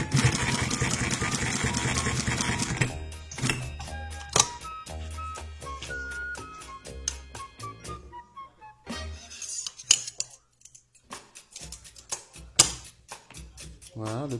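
An industrial triple-feed MAK TE4400 sewing machine stitches through thick leather about 6-7 mm deep, giving close mechanical whirring and rapid clicking runs that stop and start in short bursts with pauses between.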